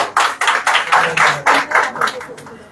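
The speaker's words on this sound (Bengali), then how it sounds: "আপুর জন্য একটা হাততালি হয়ে যাক" A gathering at a DXN product presentation claps in a quick steady rhythm, about nine distinct claps close to the microphone that fade out at the end.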